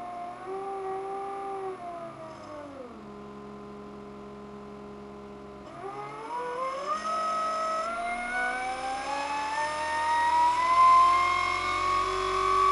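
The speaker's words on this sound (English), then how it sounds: "The regeneration capability of the drive is demonstrated in back-to-back dyno testing." An e-scooter traction motor drive runs on a back-to-back dyno test bench, producing a tonal electric whine whose pitch falls, holds steady, then climbs again with rising intensity.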